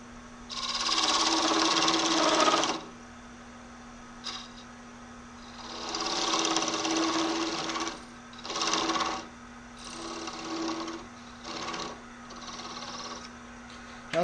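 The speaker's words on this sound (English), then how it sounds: "So I'm going to start by parting it down quite a bit more." Wood lathe parting off a small pen finial insert, a tool hissing against spinning wood in several bursts of varying length separated by short pauses, over a constant low motor hum.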